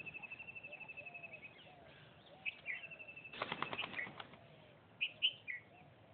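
Spotted doves at a coastal wildlife sanctuary in Tamil Nadu burst into a brief, loud flutter of flapping wings amid soft outdoor ambience, with thin bird chirps and calls scattered before and after.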